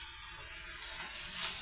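Butter sizzles steadily in a frying pan with pork sausage and potatoes, a dense continuous crackle, close and fairly loud, with no voices.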